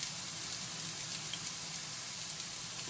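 Chopped onion and garlic dropped into hot oil for chicken keema noodles, producing a steady close hiss and crackle of frying that holds evenly throughout with no voices.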